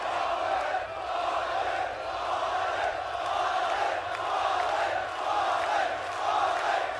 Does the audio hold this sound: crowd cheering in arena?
yes